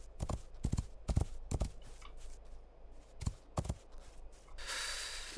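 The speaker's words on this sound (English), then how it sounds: "It's nothing me and my sturdy white horse can't handle" A sturdy white horse in the video game Rising World clip-clops along, a close, rhythmic pattern of sharp hoof strikes in pairs, then a softer hissing rush at the end.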